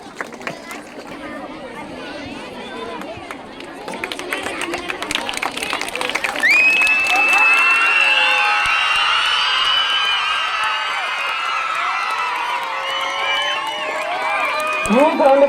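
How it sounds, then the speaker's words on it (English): An audience at an Independence Day program breaks into applause and cheering that swells midway, with crowd chatter, whistles and shouts mixed into a loud, sustained roar. "Huge round of applause."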